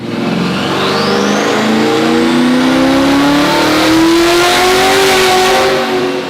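A twin turbo C8 Corvette under 14 pounds of boost, its engine revving loud and close in one long rising pull, with a climbing whine from the turbochargers over the roar.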